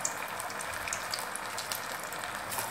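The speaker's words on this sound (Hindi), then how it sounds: "तो गाइस अब हमने इसे हाई हीट हुए तेल में फ्राई करने के लिए छोड़ दिया है" Potato cheese balls deep fry in high-heat oil, a steady dense sizzle and crackle with scattered small pops, close and continuous, with no talking.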